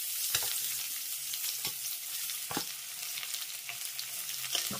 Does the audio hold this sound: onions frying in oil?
yes